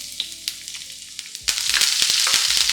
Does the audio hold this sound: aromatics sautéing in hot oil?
yes